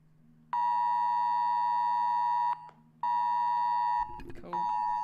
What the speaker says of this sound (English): It's your phone going off